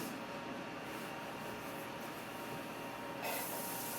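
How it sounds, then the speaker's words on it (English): Onions and garlic hit a tablespoon of oil in a hot cast iron pan, a steady close hiss of frying that swells louder near the end. "Sizzle, sizzle"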